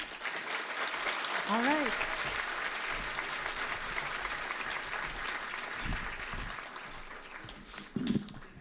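Audience applause for a keynote speaker at a Fresno State inauguration of an Asian American and Asian Studies major, a steady broad wash of clapping through the room with cheers and voices over it and brief talk.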